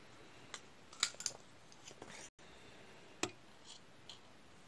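Scissors snip through cross-stitch thread in a few crisp, close clicks, two quick cuts near the start and another a couple of seconds later, against a quiet room hush.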